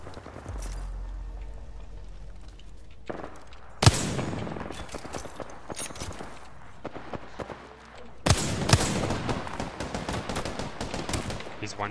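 Rapid gunfire bursts in a video game, loud clustered volleys of shots with sharp impacts, alone without talk.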